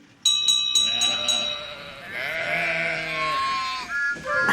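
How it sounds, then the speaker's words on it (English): Sheep on a farm platform bleat in a chorus of loud, wavering, overlapping cries that begin abruptly and carry on without a break, close at hand. "Oh, Toby, you scared all the sheep away."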